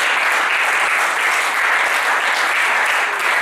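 A congregation claps steadily and loudly in worship, a dense continuous applause with no gaps.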